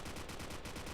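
A carbine firing on full auto in the Project Revived game, a rapid, continuous burst of shots that stays loud and close for the whole moment.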